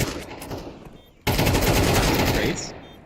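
An airstrike in a competitive online shooter match hits with a sudden loud blast, followed by sustained dense rumbling and rattling that fades after a couple of seconds.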